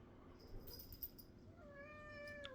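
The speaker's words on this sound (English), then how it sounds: "My cat's all upset at me right now because she doesn't think she got enough food" A pet cat meows for food indoors, faint and a little distant, with a rising meow toward the end over quiet room noise; no talking.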